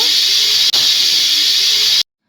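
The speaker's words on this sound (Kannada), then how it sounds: "ಕುಕ್ಕರ್ ಕ್ಯಾಪ್ ಕ್ಲೋಸ್ ಮಾಡಿ 2 ವಿಷಲ್ ಹಾಕಿಸ್ಕೊಳ್ಳೋಣ" A pressure cooker whistles loudly and steadily while cooking egg biryani, a continuous hissing steam jet with one brief break before it cuts off abruptly.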